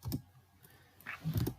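Quiet typing on a computer keyboard, with a couple of short bursts of key clicks separated by a brief pause.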